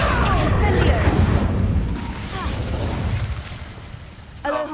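In Hogwarts Legacy, an Incendio fire spell erupts with a heavy whooshing burst and rumbling crackle that fades over a few seconds, a voice calling out over the start.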